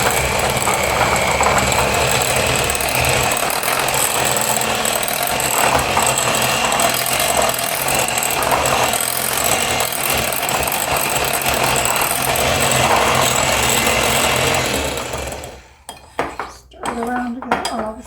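Sugar being mixed into a blueberry delight mixture in a bowl, a steady, loud scraping and clattering of utensil against dish that runs continuously before stopping near the end.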